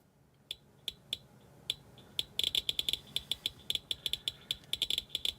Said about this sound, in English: So the more the clicks, the more the radiations.